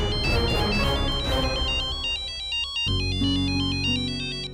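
A phone ringtone plays a bright, repeating electronic melody, fairly close and clear, with a brief change in pattern midway and no talking over it.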